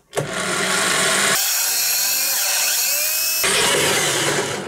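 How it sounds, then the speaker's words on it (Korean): A power drill bores a hole through the center of a battery holder part for a homemade foam cutter, a steady loud whine that rises in pitch midway as the bit bites, then drops back, running alone without talk. "배터리의 반대쪽 부분의 가운데를 타공 작업을 해주도록 하겠습니다"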